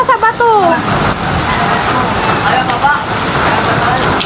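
Heavy rain pours steadily and loudly during Typhoon Carina flooding in Bulacan, a dense continuous hiss with a few voices heard briefly at the start.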